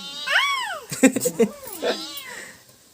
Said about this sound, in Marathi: मांजरी बरोबर कसा खेळतोय